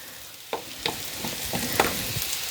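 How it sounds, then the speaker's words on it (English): Sweet potatoes fry on high heat in a hot skillet with a continuous bright sizzle and a few sharp pops and clatters as pieces are laid in. No one speaks. "I want to get these potatoes in as much a single layer as I can and leave them."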